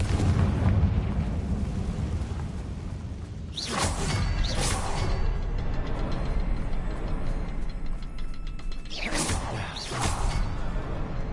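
Confringo, the blasting spell in the video game Hogwarts Legacy, erupts in whooshing explosions, a pair of bursts early and another pair later, over a constant rumbling, crackling bed of game noise.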